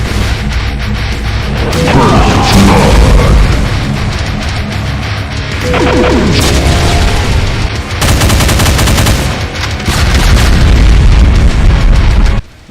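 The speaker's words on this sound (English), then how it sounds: "It can also fire a large, deadly, area-affecting, damaging blast, which is like a BFG explosion" Doom mod combat: loud, dense booming blasts and rapid gunfire-like bursts overlap in a chaotic barrage, with sharp sweeping zaps cutting through the roar of a large BFG-like energy blast.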